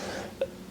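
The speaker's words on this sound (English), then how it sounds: "I've got a bit of a cough now." A single short cough from a man at work on a new Mini Cooper S build, brief and moderately close, with a quiet steady hum beneath it and no talking.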